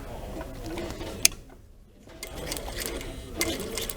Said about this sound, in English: we're going to do just a stay stitch 1 centimetre from the edge